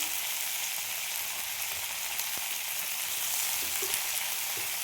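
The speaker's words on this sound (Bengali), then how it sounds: "আলু, বেগুন, কুমড়ো, এগুলো আমি এখন তেলের মধ্যে দেবো।" Potato, eggplant and pumpkin chunks fry in hot oil for a Bengali spinach chorchori, giving a steady, dense sizzle with occasional small pops, close and continuous throughout.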